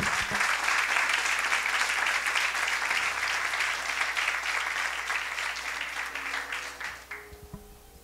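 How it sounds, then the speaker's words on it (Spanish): A church congregation gives a strong round of applause during a sermon, steady dense clapping that gradually thins and fades out near the end, with a faint low hum underneath. "Si tú crees esta palabra, dale un fuerte aplauso a Dios."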